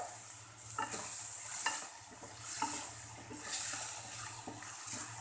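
Shredded cabbage frying in a pan as a bread pizza topping, a hissing sizzle that swells and fades in waves as it is stirred, with soft scraping of a spoon; no speech.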